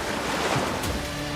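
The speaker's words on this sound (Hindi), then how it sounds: "वैसे ही समुद्र की लहरों की आवाज स्पष्ट सुनाई देने लगती है।" Sea waves wash steadily on the shore just outside the Jagannath temple, a dense rushing surf close by, with no voices.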